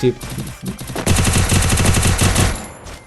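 UMP submachine gun fire in the video game Free Fire sounds as rapid, loud automatic bursts, a few short shots followed by a longer sustained volley, with voices heard around it.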